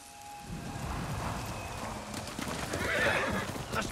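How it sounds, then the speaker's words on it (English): Horse in a video game whinnies and its hooves clip-clop steadily, with a light rain-like patter running underneath the whole time. "That's my horse. I don't know why that was calling to me."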